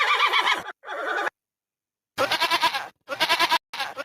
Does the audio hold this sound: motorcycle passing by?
no